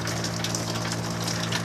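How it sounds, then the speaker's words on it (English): Water from a shower fed by a tankless water heater runs in a steady, dense hiss and spatter. It continues unbroken and fairly loud for the whole stretch, with no voices over it. "That will be plenty of water to take a shower with."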